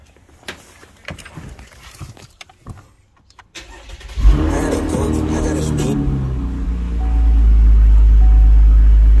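A sixth-generation Chevrolet Camaro starts after a few clicks and taps, its engine catching with a loud burst and then settling into a steady, deep idle close by.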